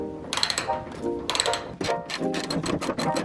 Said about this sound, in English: Now let's try to remove those bolts to get that fender off.